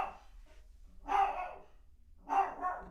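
A dog barks twice in a home near a livestreaming computer setup, two loud, close bursts about a second apart with quiet in between.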